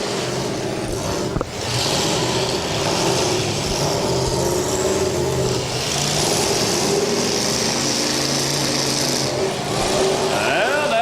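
A demolition derby car engine roars and revs steadily at a county derby while its tires spin on the hard track, the car wedged among other vehicles; loud, continuous engine drone with a faint voice underneath.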